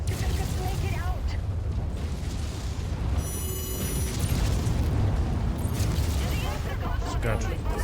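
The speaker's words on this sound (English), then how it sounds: "It's got ammo explosion." In MechWarrior 5: Mercenaries combat, a mech's ammo cooks off in a loud, sustained rumbling explosion amid continuous battle noise and mechanical clatter, with a voice speaking over it.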